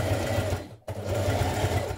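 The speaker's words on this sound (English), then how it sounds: "Stitching my front to my back at my shoulder seams here." Sewing machine with a size 90 ballpoint needle stitching thick wool coat shoulder seams, a steady close whirring hum with one brief pause mid-run.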